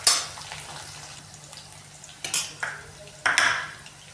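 Mustard seeds and cumin hit hot oil in a pan with a few sharp crackling bursts and pops over a low steady sizzle, fairly close, with no talking.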